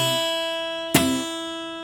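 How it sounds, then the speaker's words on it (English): An electric guitar rings with sustained notes, then a single sharp strum hits where unmuted open strings ring through an attempted choke, leaving a brief decaying wash. "you may be hitting open strings by not having your fingers cover all the strings"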